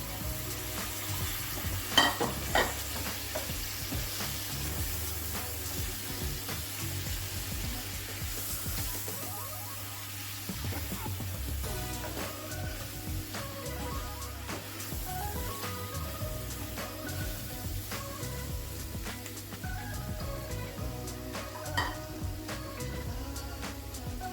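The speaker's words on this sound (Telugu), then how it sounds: "ఇప్పుడు ఇందులో ఈ మష్రూమ్ ముక్కల్ని యాడ్ చేసుకోవాలి." Mushroom pieces stirred into a frying mushroom curry in a pan, giving a steady close sizzle with scraping stir strokes throughout and no talking.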